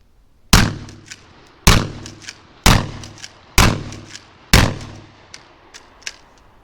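A Winchester 12 gauge shotgun fires buckshot short shells in five loud, close blasts about a second apart, each with a short echoing tail and faint clacks from the action in between.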